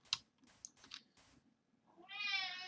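A cat in Minecraft gives a drawn-out, fairly loud meow near the end, after a few faint scattered clicks and soft sounds; no one speaks.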